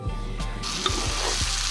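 Potato mixture frying in a pan on the stove, a steady close sizzle with soft scraping stirs and a few knocks of the utensil against the pan.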